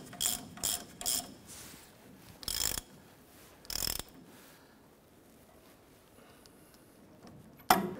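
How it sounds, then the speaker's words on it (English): Ratchet with socket tightening a nut onto the pitman arm tie rod stud of a 1993-1997 Ford Ranger, heard as several short bursts of rapid clicking with pauses between, then a final sharp click. "Let's go ahead and tighten down the nut to our pitman arm here."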